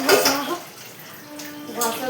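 Water runs steadily as dishes are washed, with faint clinks, while a person talks over it.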